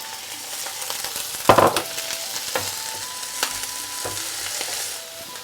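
One-pot rice ingredients sizzle steadily in a pot while they are stirred. Scrapes and clinks break in now and then, with one sharper clatter early on over a constant frying hiss.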